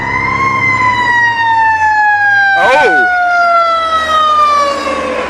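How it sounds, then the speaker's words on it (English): A loud fire truck siren wails close by, its pitch sliding slowly downward, with a brief burst of horn or engine noise midway. "Okay, so that's a fire truck, and that siren sound."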